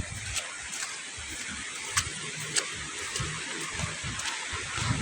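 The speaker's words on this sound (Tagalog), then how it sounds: "Ulan." Steady rain falls outdoors on a windy day, a dense continuous hiss with occasional louder drips and taps, fairly faint and unbroken with no voices.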